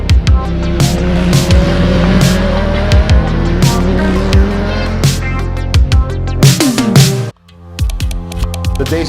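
A Radical race car corners on a track during a test day, its engine roaring loud and close with rapid gear shifts, revs rising and falling, tyres squealing, then the noise drops sharply and resumes more distantly.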